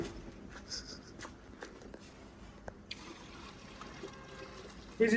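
A buffalo calf drinks water, giving soft, intermittent wet trickling and squishy lapping sounds that stay faint and close, with no talking.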